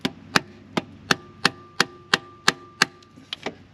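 A tool prying a transmission pan loose from the case on a Chrysler/Dodge 6-speed automatic, eight or more sharp, hollow metallic knocks at a steady beat, close and clear, with no talking.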